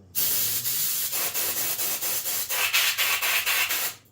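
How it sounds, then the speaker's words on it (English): Rapid pulsing blasts of compressed air from an air compressor nozzle aimed at glue on a small model crane cab, a loud close hiss fluttering in quick bursts for about four seconds. "Let me give this a good blast of the air compressor"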